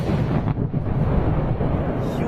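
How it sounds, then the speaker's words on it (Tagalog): A bomb explosion in the mountains of Iran, heard as a loud, continuous low rumble that fills the whole stretch and holds steady without a distinct onset. "makikita ang matinding pagsabog sa bulubunduking bahagi ng Iran"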